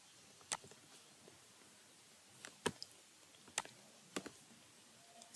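Sparse, quiet keystrokes on a computer keyboard while an Excel correlation formula is typed, a handful of separate clicks spread over several seconds with near silence between them.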